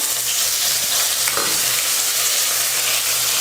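Mustard seeds and curry leaves sizzling in hot oil for a cabbage stir-fry, a loud dense hiss and crackle, close and unbroken throughout.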